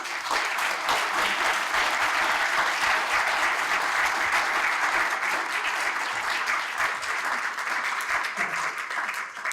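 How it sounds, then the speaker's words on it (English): Sustained, loud applause from an audience at a Concord town election candidates forum, dense steady clapping filling the room for nearly ten seconds. "I think the 3 candidates deserve a round of applause"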